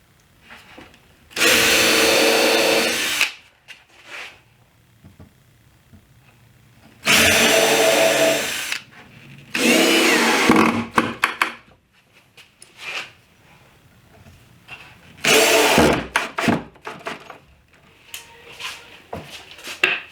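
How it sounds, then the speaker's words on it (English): Several loud bursts of a power drill whirring as it drives screws into wood, each lasting a second or two, separated by quieter clicks and handling noises. "I'm going to drill some pilot holes"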